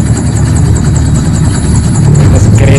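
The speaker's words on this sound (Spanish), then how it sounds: "Está el helicóptero y si está lejos, se ve lejos." A helicopter in a film soundtrack gives a loud, steady rotor chop with a rhythmic beating pulse over a low engine rumble, sustained without pause.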